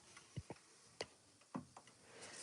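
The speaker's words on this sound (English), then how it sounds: "That's a grandfather clock for you." A grandfather clock in need of oil for its wheels ticks softly and steadily, giving about five evenly spaced ticks in a quiet room.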